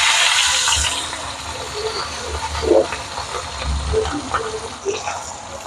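Fish fries in hot oil with curry leaves in a Jaffna-style pan, then gets turned over. A loud, steady sizzle starts it off, followed by a few soft knocks and scrapes as the pieces are flipped.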